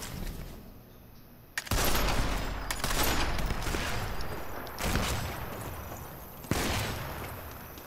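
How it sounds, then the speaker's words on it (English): Bursts of gunfire from the video game Sniper Elite 4 multiplayer, starting after a quiet second and returning in several loud, dense volleys, with sharp cracks around the three-, five- and six-and-a-half-second marks. "Somebody is shooting, I don't see where, but somebody is shooting."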